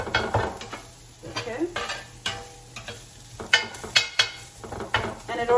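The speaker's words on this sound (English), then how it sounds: "the minced meat is actually cooking" Minced beef sizzles in a pan while a utensil stirs and breaks it up, irregular scraping and clanking strokes over a steady fry, and one brief spoken word.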